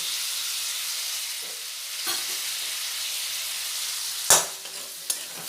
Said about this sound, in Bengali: বেশ ভালোভাবে লাল লাল করে আলুগুলো ভেজে নেব